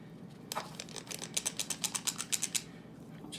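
A tablespoon-and-a-half cookie scoop's spring mechanism clicks through gob dough in a quick ratcheting series of about a dozen close, crisp ticks, followed by quiet.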